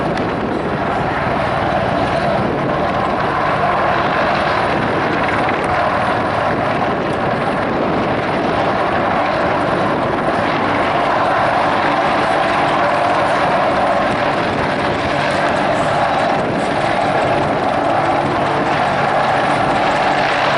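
Army Air Corps display team helicopters fly at a summer air show at Duxford, their rotors and engines making a loud, continuous, steady roar that carries unbroken through the whole stretch.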